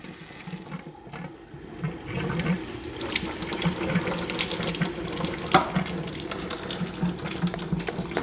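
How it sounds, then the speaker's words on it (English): Beer running from a slowly opened valve through a hose into a bucket, a gurgling splash that builds into a steady pouring stream, close and continuous. "So what we're going to do is put this hose in the bucket, slowly open this valve"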